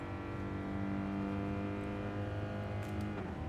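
A racing car engine in a racing video game holds a steady, loud tonal drone, then shifts into fourth gear near the end, with no talk heard.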